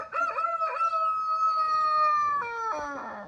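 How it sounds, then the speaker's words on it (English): A rooster crows loudly and close by, two drawn-out cock-a-doodle-doo calls, the second starting near the end, with no talk. "There's my rooster."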